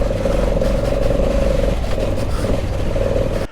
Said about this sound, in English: Because it's an auto, so when it starts to spin, the revs go up a bit.